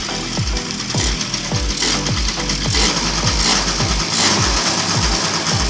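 A restored Yamaha Mint 50cc scooter engine runs close by with a steady mechanical ticking and rattle, its rhythmic pulses repeating about twice a second over a constant low hum, with no talk.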